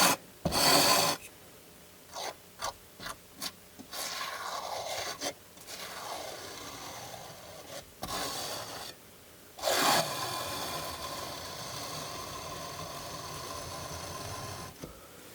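A straight-edged knife blade scrapes across a painting canvas in prepping work, a run of short rasping strokes followed by longer sustained scrapes, close and fairly loud with no talking.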